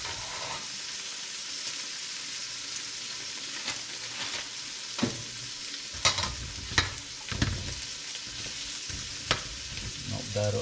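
A large cube of butter melts in a pan for chicken fried rice, giving a steady close sizzle with spatula scrapes and stirring knocks that sharpen in the second half.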